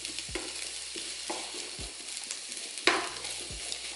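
Bell peppers and serrano pepper tumble into a hot pan for crockpot chili, giving a steady sizzle with a few soft thuds and a brief louder scrape of stirring partway through, no voices.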